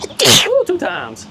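One sharp, close sneeze bursts out at a backyard mini golf course, followed at once by a person speaking.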